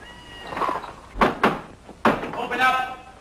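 Heavy knocks land on a wooden door at a farmhouse in a 1960 drama, a couple of sharp bangs then another hard pair, with a voice shouting between them.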